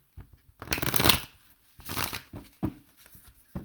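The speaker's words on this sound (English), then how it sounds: "Caught me shuffling my tarot cards a little late this morning." Tarot cards shuffled by hand in a few short riffling bursts with brief pauses between, close and fairly quiet, with no talk.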